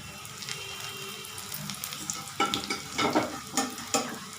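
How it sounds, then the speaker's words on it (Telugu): Spring rolls dropped into hot oil for deep frying, a steady bubbling sizzle that grows busier and louder toward the end, with a few close splashy bursts. "ఆయిల్ వేడైనాక దాంట్లో వేసేసి డీప్ ఫ్రై చేసుకోవాలి."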